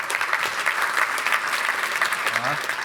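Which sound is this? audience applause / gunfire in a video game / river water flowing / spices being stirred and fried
audience applause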